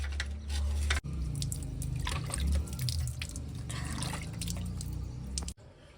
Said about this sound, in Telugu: చల్ల నీళ్ళతో కడుక్కున్నా